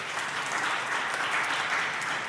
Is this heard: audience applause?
yes